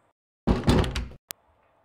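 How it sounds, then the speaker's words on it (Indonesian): A door is slammed shut, a loud rushing swing ending in a hard bang, followed by a sharp click and a faint quiet room tone. "Aku membanting pintu"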